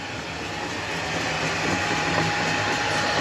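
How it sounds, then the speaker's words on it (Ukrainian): Steady, broad whooshing hum of two electric fans cooling rabbit feed pellets, continuous and even, with a faint tonal whine underneath. "Вентилятор дує один сюди, а один знизу."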